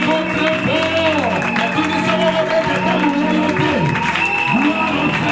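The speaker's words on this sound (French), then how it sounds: "Est-ce que nous pouvons acclamer encore très fort?" A church congregation applauds and cheers loudly, with crowd noise and sustained tonal voices and shouts riding over dense clapping throughout.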